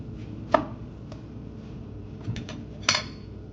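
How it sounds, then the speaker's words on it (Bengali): A knife cutting through an orange on a board to make a slice for a mocktail garnish, a few sharp isolated chopping taps spaced apart over a quiet room background. "গার্নিশের জন্য আমি একটা অরেঞ্জ নিয়ে নেব। অরেঞ্জটা খুব সুন্দর করে একটা স্লাইস বের করে নেব এর মধ্যে।"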